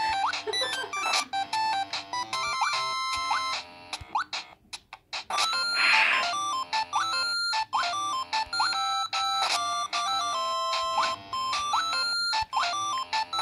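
A malfunctioning mobile phone plays a loud, repeating electronic ringtone melody for several seconds, briefly dipping and breaking up partway through before resuming.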